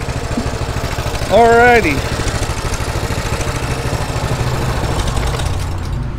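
A Coleman CT200U minibike engine idles close by in a steady low chugging rumble, with its freshly painted muffler heating up; someone speaks one brief word over it early on.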